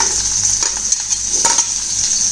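Onion sizzling in hot oil with garlic already browned in the pan, a steady close crackle with occasional soft stirring scrapes, no voices.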